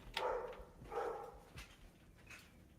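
A dog gives a few short barks and yips in separate bursts, fairly faint and a little distant, with quiet room noise between them.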